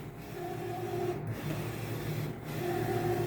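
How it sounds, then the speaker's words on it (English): A J16 printer running while printing a canvas, a steady mechanical whir with tonal hum, broken by brief sweeping passes roughly every second, heard close and alone. "Printing here."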